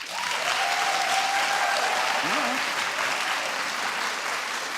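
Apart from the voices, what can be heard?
audience clapping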